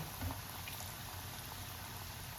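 Tofu deep frying in hot oil, a soft, even bubbling sizzle that runs steadily and fairly quietly throughout, with no voices.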